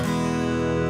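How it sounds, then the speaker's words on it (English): A guitar strums a single major chord once, and it rings out bright and sustained, close and clear, with no voices. "I always think that a major chord like this"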